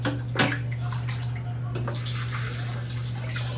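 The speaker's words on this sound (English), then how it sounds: "I also like to kind of rinse it around and get out the last of that crema." Water runs and splashes as an espresso cocktail shaker and its lid are rinsed at a sink, a steady close-up gush with a few sharper splashes and knocks near the start.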